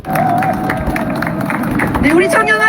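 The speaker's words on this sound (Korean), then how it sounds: "우리 이 젊은 애국자님들께 여러분 큰 응원의 박수 부탁드리겠습니다" Outdoor rally crowd clapping for young attendees near a residence in Itaewon, rhythmic applause mixed with crowd babble and voices, plus a rising whistle or siren-like tone near the end.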